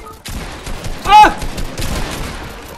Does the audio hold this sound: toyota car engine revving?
no